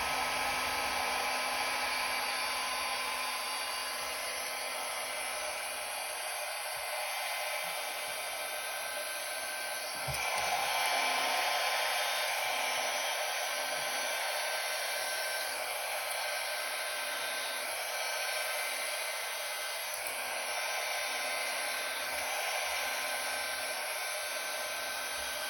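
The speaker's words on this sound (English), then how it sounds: "now I'm gonna grab my blow dryer, and on the low cool setting, I am gonna start to blow this out" Hair dryer running continuously on a low cool setting, blowing across fluid paint, a steady airy whoosh with a constant high whine that swells slightly partway through.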